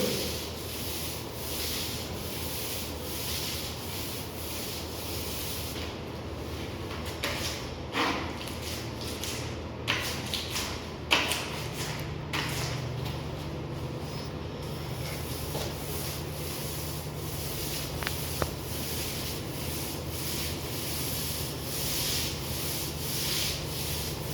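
Paint roller with 7 mm nap working across a wall in a kitchen-studio, a continuous soft rubbing swish with faint clicks, steady and moderately quiet throughout.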